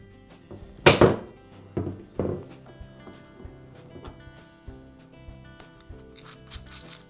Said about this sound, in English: Now I'll use a mallet to strike the end of the Allen wrench.